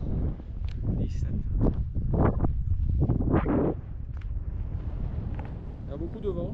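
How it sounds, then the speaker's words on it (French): Strong gusty wind high in the Mercantour mountains, near 2,800 metres, buffets the microphone in loud rushes and then settles into a lower, steadier roar, with people talking over it. "Il y a beaucoup de vent."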